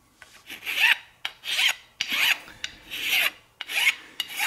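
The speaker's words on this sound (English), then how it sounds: "So what you got to do is you're going to have to file this flat." A file rasps across a plastic disc brake part from a Peg Perego Super Gaucho ride-on toy, flattening its flared molding in five or six close, rhythmic scraping strokes with brief pauses between them.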